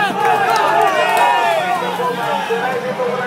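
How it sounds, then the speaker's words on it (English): A lively crowd cheers and chatters along a cyclocross race course, a dense, loud, continuous roar of many voices close by. "We've got a great crowd here."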